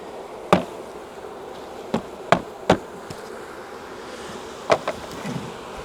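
Honey bees from a caught swarm buzz under a series of sharp taps as they are knocked into a box, with the knocks loud and irregular over a low, steady hum.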